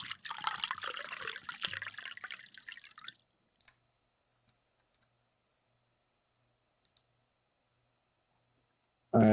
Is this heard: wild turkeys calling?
no